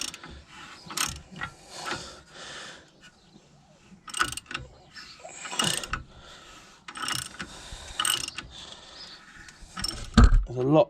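Ratchet fitted with an 18mm socket working loose the track rod on a 2000–2007 Volvo V70 during inner track rod end replacement, giving bursts of close, loud clicking pawl ratcheting separated by short pauses and handling noise.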